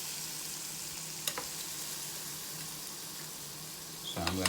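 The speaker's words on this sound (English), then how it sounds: "Now I'm gonna add these burgers back in it and let it finish cooking." Burgers sizzling as they finish cooking in a Power XL grill, a steady close frying hiss throughout, with a few brief clicks and a clatter near the end.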